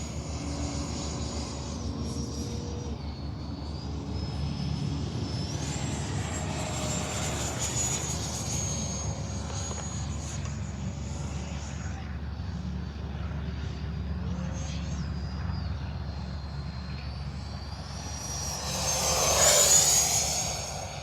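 HobbyKing FlyCat V2 RC jet plane on a hot day, its gear up, making a continuous whooshing engine drone in a flying pass that swells louder near the end.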